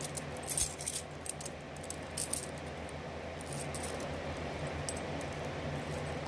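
Keys on a key ring jangle in a couple of close metallic bursts near the start, then a quieter shuffling rattle follows as the ring is handled one-handed.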